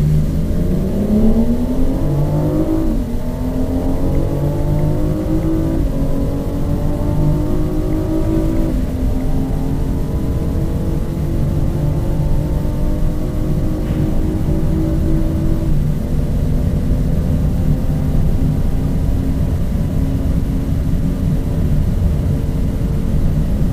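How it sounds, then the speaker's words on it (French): A BMW 760Li V12 Series 7 luxury sedan with xDrive accelerates hard, its engine note climbing steadily through several gear changes in a loud, continuous, close-up roar with no talking. "Petit accel pour voir un peu ce que ça donne."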